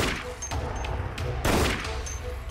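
Gunfire from the zombie shooter video game Dead Effect, with several loud, sharp shots fired in a quick irregular burst over a low background rumble.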